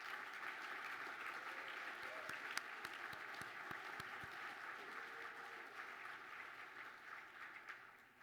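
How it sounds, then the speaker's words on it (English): A large indoor audience at a university engineering awards ceremony claps steadily, a dense, even wash of applause at moderate distance that holds for several seconds before tapering off. "Please give a round of applause for WaterShield as well as all of the event's participants."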